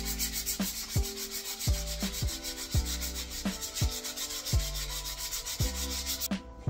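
Wet sanding of a painted high-power model rocket body tube with 1000-grit paper, a steady back-and-forth rubbing in a regular rhythm with squeaky tonal strokes, close up and without talk.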